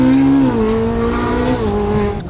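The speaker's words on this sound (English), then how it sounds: "That's how you drift the 458." A rebuilt Ferrari 458 drifts hard through a corner, its engine note loud, close and sustained before dipping slightly and fading near the end, with no voices over it.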